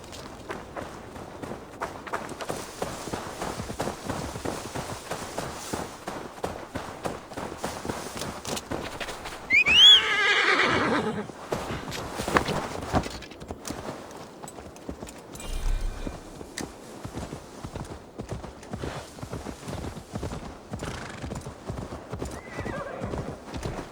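A horse in the Assassin's Creed Valhalla video game clip-clops along steadily with rhythmic hooves, breaking into a loud, close neigh midway before the hoofbeats carry on.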